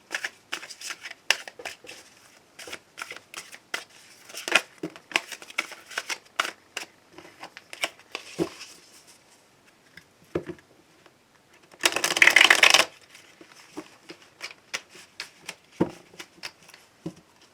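Tarot cards are shuffled up close during a daily card reading: quick, crisp papery riffles and flicks recur throughout, with one dense burst of rapid shuffling near the end.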